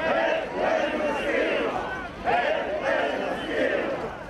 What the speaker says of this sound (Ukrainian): Націоналісти реагують на червоне лише вигуками